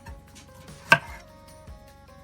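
A knife roughly chopping salsa ranchera ingredients on a board: one sharp, prominent chop among softer, faint knocks, set against quiet background music.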